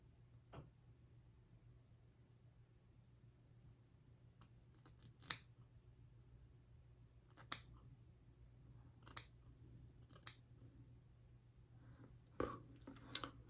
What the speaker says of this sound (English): Now only thing left is just trim our mustache.